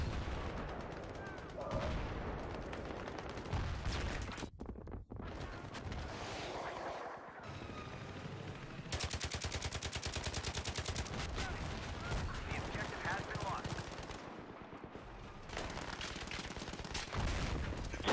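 Rapid gunfire crackles through a large-scale video game battle, with dense bursts of shots continuing for long stretches and a few brief gaps, close and loud, while players talk over it.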